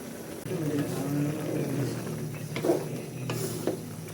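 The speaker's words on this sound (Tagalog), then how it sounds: "Halo-haloin po natin paminsan-minsan hanggang sa maubos po yung sabaw niya" Chicken liver adobo with pineapple chunks simmering uncovered in a pan, giving a low steady sizzle while a utensil stirs and scrapes now and then, with a few soft clinks.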